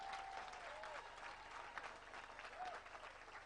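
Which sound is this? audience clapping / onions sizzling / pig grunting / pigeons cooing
audience clapping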